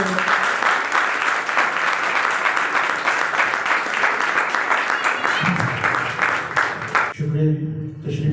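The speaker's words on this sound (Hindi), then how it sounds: "पास्टर नदीम प्यारा साहब को भरपूर तालियों से वेलकम करेंगे" A church congregation gives the pastor a warm welcome with loud, sustained applause lasting several seconds, then it cuts off and a voice begins speaking.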